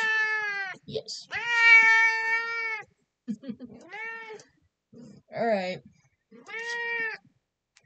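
A chatty pet cat meows repeatedly, several drawn-out, tonal meows with pauses between them, close and clear, while a person briefly speaks a couple of words in between.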